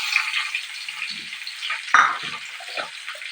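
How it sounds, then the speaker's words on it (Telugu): A cup of onions frying in oil for Telangana-style fish curry gives a bright, continuous close sizzle, with a few soft scrapes and stirs partway through and no voices. "ఒక కప్పు ఉల్లిగడ్డలు మంచిగా నూనెలా ఇట్లా కాల్చుకోవాలి"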